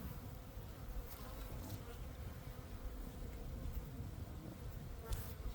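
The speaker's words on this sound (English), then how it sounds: "A lot of bees here" Honey bees swarm around an open hive in a continuous, low, dense buzz, close and steady, with a few faint extra sounds over it.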